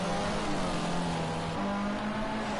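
Formula C race cars in Project Cars 2 warming their tyres, with a continuous loud engine drone and a shifting, rising pitch, several cars layered close together and no voices.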